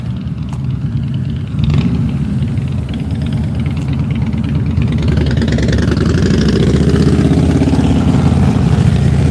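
Motorcycle engines idling outdoors at a downtown street event in Dewey, a steady loud low rumble with a slightly rising, thickening drone toward the end.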